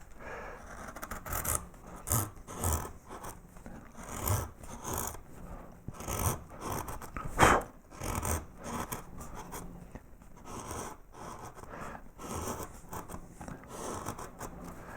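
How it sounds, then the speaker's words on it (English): A hand carving tool cuts across the grain of wood, producing a series of close, quiet rasping scrapes in uneven strokes with brief pauses between them. "So working across the grain, as I get to the end here, I'm going to rock the cut a little bit like that."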